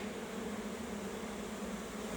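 Honeybees drone around an opened hive during a spring inspection, a steady, close, unbroken hum with no voices over it.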